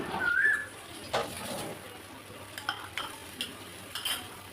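Mustard paste masala for a rui fish curry being stirred in a pan, with a low sizzle and a few scattered spoon scrapes and taps, close and moderately quiet, with no talking.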